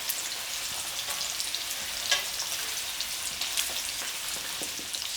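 Garlic chicken wings fry in hot oil and get flipped with chopsticks, a steady close sizzle and crackle with a few small clicks and spatters and no talking.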